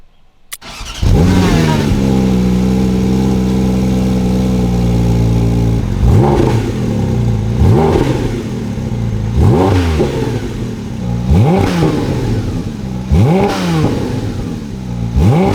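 A Porsche GT4 RS starts and drives, its engine humming steadily, then rising and falling in repeated loud revs through the gears, close and with no talk.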